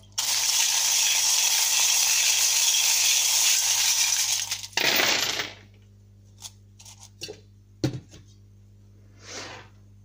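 Gris-gris charms tossed for a divination reading: a dense rattling rush for several seconds, then a sharp clatter as they land, followed by a few sparse small clicks and taps in near silence.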